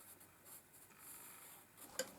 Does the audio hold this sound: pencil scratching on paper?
yes